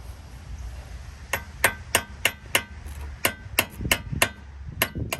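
A hammer taps corroded brake caliper hardware through its bore in a series of about a dozen sharp, close metallic strikes, spaced roughly evenly with brief ringing after each.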